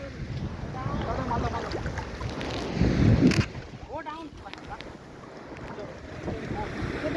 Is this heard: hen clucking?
no